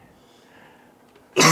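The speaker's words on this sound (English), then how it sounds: "Sorry about the coughing, guys." A single sharp cough or throat-clear bursts out loud and close after a stretch of quiet room tone.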